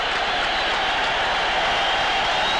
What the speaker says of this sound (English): They won't stop applauding